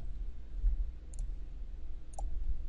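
Two crisp, faint mouse clicks about a second apart, made while pressing download buttons, over a quiet low hum.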